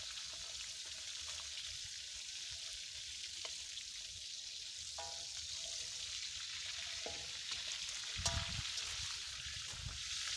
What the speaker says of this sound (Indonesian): Ini saya goreng semua dulu.